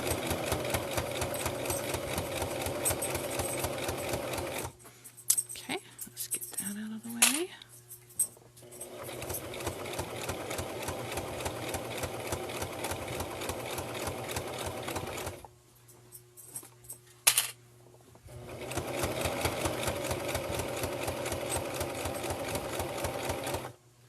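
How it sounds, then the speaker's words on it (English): A sewing machine stitches a bulky pet leash in three long runs, each starting and stopping abruptly, with short quiet gaps of fabric handling and small clicks between them; the machine runs close and steady at a long stitch length. "the bulkier the item is that you're sewing, the longer the stitch length is"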